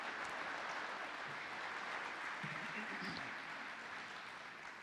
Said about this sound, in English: please give Mr. Jim Towey a great big Man Up Philly round of applause